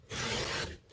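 Scrapbook paper being trimmed to size on a paper trimmer, a single steady rasping slide of the blade lasting under a second, close and fairly loud with no talk.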